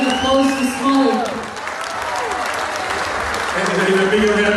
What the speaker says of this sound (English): a huge round of applause for Smolly.